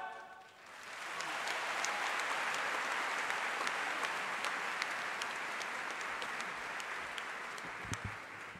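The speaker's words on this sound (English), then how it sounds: "One more round of applause for them, please." An audience applauds after a choir's spiritual performance. Dense, sustained clapping swells in after a brief lead-in, holds steady for several seconds with a few sharper individual claps standing out, then begins to taper.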